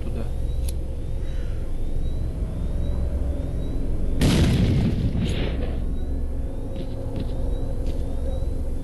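Grenade blast in the shooter S.T.A.L.K.E.R.: Clear Sky, a single loud booming explosion with a rumbling tail, rising out of steady low game ambience and continuous background rumble.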